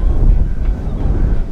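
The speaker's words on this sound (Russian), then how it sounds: "я чувствую, что ветер дует в эту сторону" Strong wind buffets the microphone in an open field ahead of a storm, a steady, loud low rumble with no breaks.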